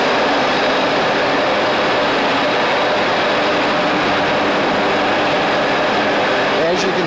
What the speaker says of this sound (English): the fork truck driver is currently removing the boat from the racks, driving straight back